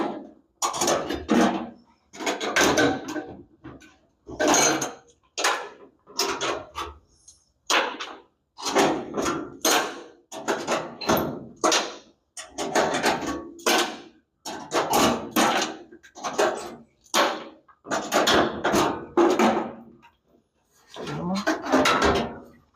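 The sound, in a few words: unscrewing Cleco fasteners and lifting out a truck engine cover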